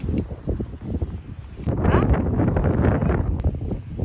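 Strong gusts buffet a campsite tent and the microphone, a continuous roaring rush that swells louder midway, with faint rustling and no clear speech.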